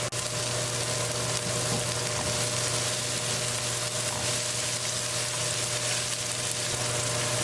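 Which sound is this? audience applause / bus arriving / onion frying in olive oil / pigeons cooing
onion frying in olive oil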